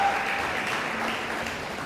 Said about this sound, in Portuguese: Quem vai dar um aplauso ao Senhor Jesus?